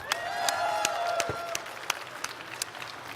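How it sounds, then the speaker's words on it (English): Audience at a gaming convention stage show breaking into applause, a burst of clapping with cheering voices that swells early and then thins out to scattered claps. "Round of applause for him."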